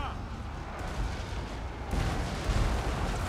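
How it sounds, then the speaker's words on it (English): Mortar artillery in a Total War: Warhammer 2 Empire battle, with deep booming impacts and rumbling blasts in a dense battlefield din that swells toward the end, while voices shout over the fighting. "These mortars though"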